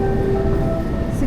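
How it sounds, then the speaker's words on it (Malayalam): A Moscow metro train passes through Prospekt Mira station, a steady loud rumble with a thin sustained whine running through it, heard on its own with no talk. "ഇവിടെ ഓൾറെഡി ഒരു ട്രെയിൻ പോയി, ഒരു മെട്രോ പോയി."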